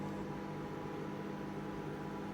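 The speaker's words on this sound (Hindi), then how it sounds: "ये देखें अभी ये माइक्रोवेव चल रहा है" A Black+Decker microwave oven hums steadily through a 30-second cooking cycle, a constant low drone with fan noise, quiet and without interruption.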